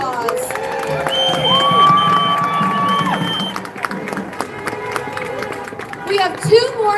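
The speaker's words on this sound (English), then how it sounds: "Give him another round of applause." Rally crowd at an outdoor No Kings protest in Ohio applauding and cheering a speaker, sustained clapping and shouts with scattered voices and some music-like tones over the top.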